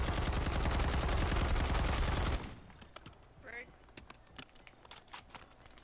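Rapid automatic gunfire in Call of Duty Warzone, a loud dense burst of shots for a couple of seconds, then scattered single shots and fainter game noises with voices chatting over the top.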